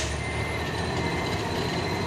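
A truck fitted with an intercooler runs close by, its engine a loud, steady drone with a continuous rumble and no talking.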